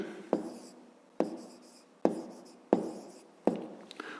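Chalk or pen writing an answer to a rectangle problem in a 5th-grade maths exercise, five sharp taps, each followed by a short scratching stroke, close and steady with no talk.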